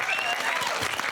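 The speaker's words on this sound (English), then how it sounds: "Give him a round of applause." A studio audience bursts into applause on a comedy panel show, a dense, loud wash of clapping filling the short moment with a hint of crowd noise.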